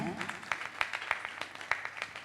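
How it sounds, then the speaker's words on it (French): Scattered hand claps from an audience at an association meeting, greeting the arriving first administrator, with sharp separate claps in an uneven rhythm and a voice talking underneath. "Oui, avec vos applaudissements."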